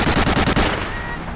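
Rapid machine-gun bursts from the World War II shooter Medal of Honor: Allied Assault, a loud rattling string of shots that stops partway through and leaves quieter game ambience.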